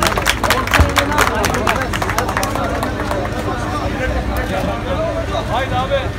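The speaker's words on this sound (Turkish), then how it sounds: "Emre Çetin için bir alkış alalım" A crowd applauds a contestant at a live event, with brisk clapping at the start that thins out as a voice talks over the room's background chatter.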